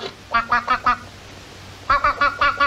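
A goose in a Mazzaropi comedy film scene honks loudly and close in two bursts of four or five rapid, evenly spaced calls, with a short pause between them.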